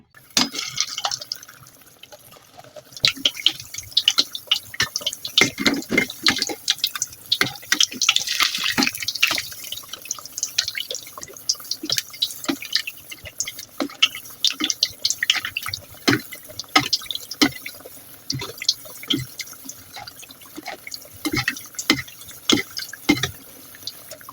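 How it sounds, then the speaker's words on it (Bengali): Eggplant beguni fritters deep-fry in oil over medium-low heat, giving a busy, uneven crackle and bubbling with frequent sharp pops that rise and fall throughout. "বেগুনি ভাজার সময় অবশ্যই কিন্তু চুলার আঁচটাকে মিডিয়াম টু লোতে রাখতে হবে"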